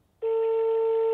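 A telephone ringback tone while calling a number: a steady electronic tone starts abruptly after a brief quiet moment and holds loud and constant, with no talking.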